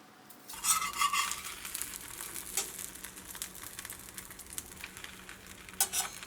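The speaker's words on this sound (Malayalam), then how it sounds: "ഇത് നമ്മൾ നമ്മുടെ ചൂടായ പാനിലേക്ക് വയ്ക്കാൻ വേണ്ടിയിട്ട് പോവാണ്" Egg-dipped bread slices hit a hot pan and fry, a steady soft sizzle with brief scrapes and clinks of a utensil, close and fairly quiet, no one talking.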